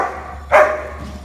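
A single sharp bark from Mach, a two-year-old black German Shepherd raised at home and trained in protection and obedience, rings out close and loud over a quiet room.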